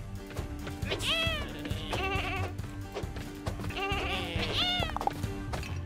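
Sheep bleat repeatedly in the Lumberhill video game, a few quavering cries in quick clusters layered over steady, busy game music.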